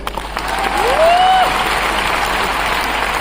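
Crowd at an MI Lifestyle business program in Nagpur claps steadily at moderate loudness, with one rising whistle cutting through near the start of the applause.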